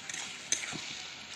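A fish and vegetable curry frying in a pot on a wood-burning stove, with a soft continuous sizzle and a brief clink of a spoon stirring, quiet and close.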